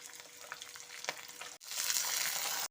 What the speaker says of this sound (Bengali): এখন আমি চিকেনগুলো এর মধ্যে দিয়ে একটু চিকেনগুলোকে ভেজে নেব